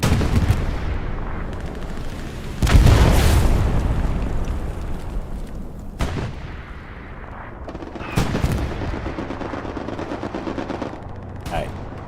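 Heavy automatic gunfire sprays across a WWII-style battle at Elsenborn Ridge, with loud bursts and booming blasts rolling over rumbling explosions, shots recurring every few seconds while a voice talks over the action.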